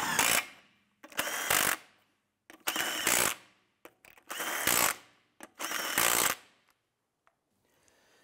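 Five bursts of an impact or power driver snugging lug nuts onto a 2005-2007 Ford 500 front wheel, each lasting about half a second to a second and separated by short pauses, close and fairly loud with no talking.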